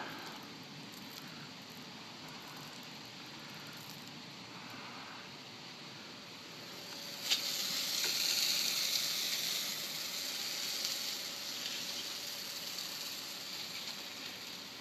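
A 12 volt water pump sprays through a 0 degree nozzle tip with an orifice size of about 12, used for rinsing awnings. A steady broadband hiss grows louder about halfway through and carries on to the end, with no talking.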